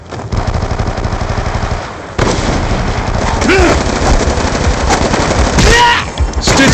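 Automatic weapon fire in the shooter game Black Ops II, with dense, loud machine-gun bursts rattling almost without pause and a short break near the two-second mark.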